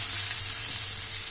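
Vermicelli frying in ghee gives a steady, even sizzle with a soft low hum beneath it, continuous and close, with no voices.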